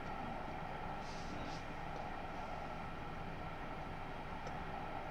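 High-speed train running on the LGV line between Avignon and Marseille, a continuous, even rumble and rushing hiss that holds steady throughout with no break.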